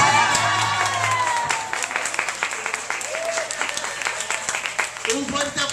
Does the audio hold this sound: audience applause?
yes